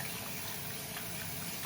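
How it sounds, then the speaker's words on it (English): A makeup brush is rinsed under running tap water to flush out soap, giving a steady, close splashing wash of water that runs continuously without pause. "Kind of rinse off the brush."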